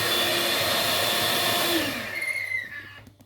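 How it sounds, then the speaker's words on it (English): Electric whisk whirring steadily through a meringue cheesecake mixture, loud and close, then slowing and fading out near the end. "we're going to whisk that yet again"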